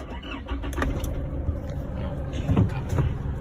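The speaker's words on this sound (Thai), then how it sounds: "สตาร์ทเครื่องยนต์" A 2018 Isuzu D-Max V-Cross pickup being started during an inspection: a low engine rumble turns over and settles into a steady idle, close by, with a few faint clicks and someone talking over it.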